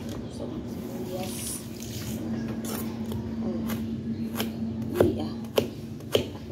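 A knife chops onion on a cutting board in a home kitchen, a few sharp knocks near the end over running water and clattering dishes, with a brief voice at one point.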